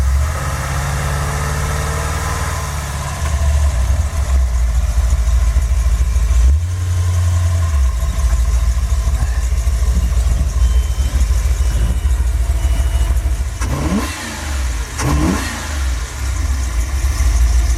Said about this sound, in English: To climb this hill here, I'm just going to give it some gas, like I'm taking off kind of extra fast